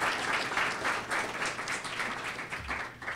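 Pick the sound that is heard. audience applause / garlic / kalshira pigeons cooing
audience applause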